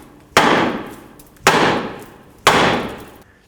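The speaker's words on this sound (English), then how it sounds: "So I'm just going to take a hammer and hammer it." Hammer striking a rust-stuck rear brake rotor on a 2001-07 Toyota Sequoia, three loud metallic bangs about a second apart, each ringing and fading before the next.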